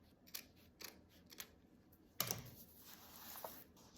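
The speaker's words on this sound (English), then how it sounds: "I like to cut smaller amounts at first because I can always go back if it still is too long and I can keep trimming" Scissors snip craft material for a Valentine's Day doorhanger, a few quiet, separate cuts spaced out at close range, then a sharper, louder cut midway, followed by lighter trimming in a quiet room.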